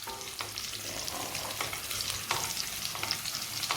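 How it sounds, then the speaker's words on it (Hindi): Long-sliced green chillies sauté in hot oil in a pan, a steady close sizzle with soft stirring scrapes throughout and no talking. "अब हम इसमें लंबी लंबी कटी हुई हरी मिर्च को डाल देंगे और मिर्च को हम सौते होने तक भूनेंगे।"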